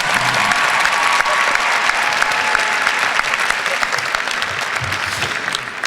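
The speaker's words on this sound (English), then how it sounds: "She deserves a warm round of applause." A graduation commencement crowd gives a warm, sustained round of applause, dense and loud clapping filling the whole stretch and slowly easing toward the end.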